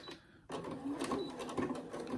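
A sewing machine starts up after a short pause and runs in a fast, steady whirring stitch while topstitching around a fabric edge at about 5 mm, close and fairly quiet.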